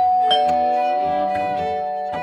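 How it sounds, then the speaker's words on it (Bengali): A doorbell pressed at the front gate of a house, ringing out a sustained chiming tone with a few faint clicks, clear and fairly loud. "JoJo calling bell টেপে"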